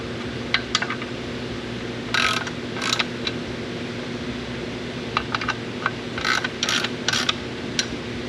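Bolts on an LS1 flywheel being tightened, with short metallic ratchet clicks in a few quick bursts over a steady background hum, close by in a workshop.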